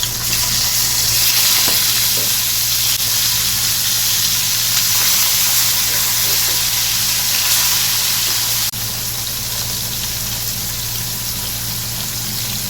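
Rohu fish fries in a pan after being flipped, a loud, close, continuous sizzle and crackle with a steady low hum beneath, the hiss dropping slightly near the end, no voices.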